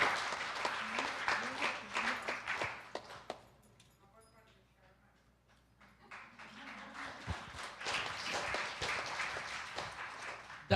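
Audience clapping at a Maha Shivratri temple gathering for a priest, a burst that dies away into near quiet before a second round of applause swells again, with some voices mixed in.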